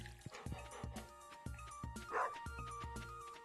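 A dog in a farming video game gives a series of quick, soft yips and barks in a steady rhythm, faint and close over a quiet game soundscape.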